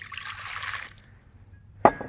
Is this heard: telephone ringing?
no